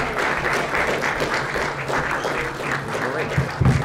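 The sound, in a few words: audience applauding volunteers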